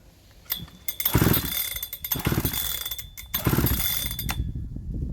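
A Husqvarna 3120xp chainsaw fitted with a 272xp coil is pull-started and fails to fire: about four close, loud, rasping recoil-cord pulls with ratcheting clatter and short pauses between them.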